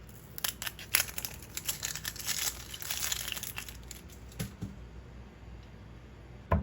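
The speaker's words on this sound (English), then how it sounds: "Cut your little onion." A knife slicing a small onion on a board, quiet crisp cuts and crinkly snaps in an irregular run, close and soft with no talking.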